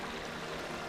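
Water flows over the travertine terraces at Pamukkale with a steady, even rush and trickle, close and continuous through the brief moment, with no voices.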